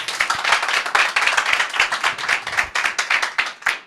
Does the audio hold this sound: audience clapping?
yes